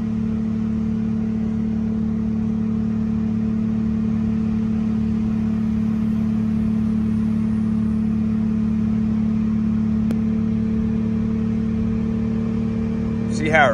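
Manual sports sedan cruising in second gear around 40 to 45 mph, its engine a steady droning hum heard from inside the cabin, constant and unbroken with a brief shift in tone at the very end.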